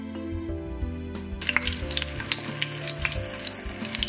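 Bay leaf and garlic cloves frying in olive oil in a pan, a steady close sizzle that grows louder and crackles more brightly partway through, with no voices.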